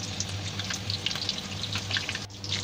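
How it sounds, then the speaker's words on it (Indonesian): Spices frying in hot oil for Hong Kong style chicken, a close, continuous sizzle with scattered crackles and pops, and a faint steady hum underneath. "Nah, sekarang kita goreng. Nah, masukin dulu ya rempah-rempahnya."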